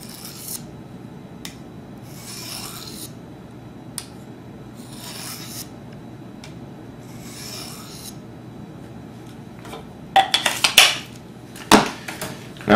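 A knife edge rubbing against a small diamond sharpening stone in slow, periodic gritty strokes, then a burst of louder, sharper scraping near the end, close and without talk.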